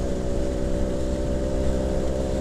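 The aftermarket exhaust of a Suzuki Tornado GX100 motorcycle idles nearby with a deep, steady, throaty rumble and no other sounds.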